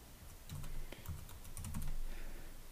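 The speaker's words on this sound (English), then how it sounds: "We can go to Images, and we're going to type in" Quiet, close typing on a computer keyboard, with a few short bursts of key clicks separated by brief pauses.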